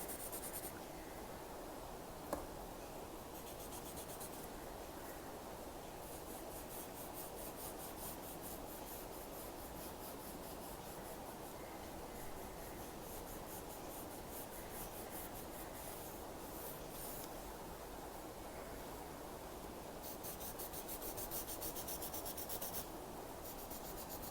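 A graphite pencil scratches and rubs steadily across a small paper Zentangle tile, shading closely and continuously for the whole stretch, soft but close, with no talking.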